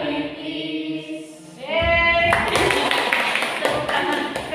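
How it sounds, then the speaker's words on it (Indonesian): An audience bursts into a round of hand clapping after a voice finishes speaking, the dense applause filling the room and continuing steadily. "Tepuk tangan sekali lagi ya."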